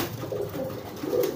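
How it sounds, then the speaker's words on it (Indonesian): A pigeon coos close by, a few soft, low, throaty rolling calls that swell near the end, with no voices over it. "ini merpatinya nih"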